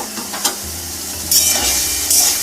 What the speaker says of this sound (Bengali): খুন্তি দিয়ে একটু ঘাঁটা ঘাঁটা করে নিচ্ছি টমেটোগুলোকে